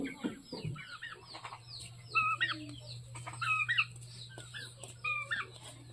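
Farm chickens, now grown large, cluck in short, repeated bursts over a steady low hum. A brief voice or rustle is heard at the very start, then the clucks come at middling distance.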